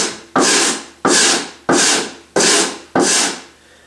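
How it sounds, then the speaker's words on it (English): Coarse 50-60 grit sandpaper on a hand block scrubs across the wood of a harp, five loud, evenly spaced rasping strokes close up, each starting sharply and tapering off, with no talking. "it's like a 50 or 60 grit sandpaper on a block like this."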